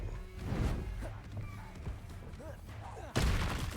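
Blasting spells Confringo and Bombarda going off in Hogwarts Legacy combat, several sharp impacts and thuds under game noise, with a heavier burst near the end.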